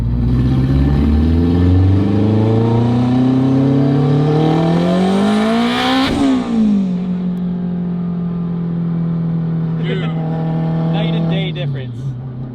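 An all-wheel-drive turbocharged Honda RSX with a K20 engine launches hard in first gear, its loud engine note climbing steadily to a high rev peak, then dropping sharply at the shift and settling into a steady drone.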